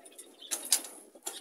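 Soft pigeon cooing close by, with a few brief bursts that may be fluttering wings, and no talking.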